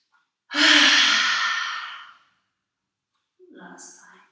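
A deep breath drawn in through the nose for yoga, then a long audible exhale through the mouth as a loud airy rush fading over a second and a half, followed by a fainter second breath.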